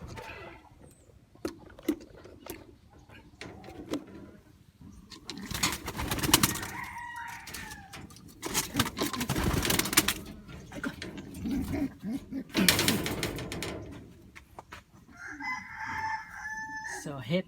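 A three-month-old champion racing pigeon gives soft bird calls in short bursts, with crowing from nearby roosters and scattered rustling in between; no one speaks.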